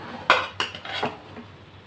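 Boiled vermicelli tossed with vegetables and masala in a pan, a few close metallic clinks of spoon against pan followed by softer scraping, no voices.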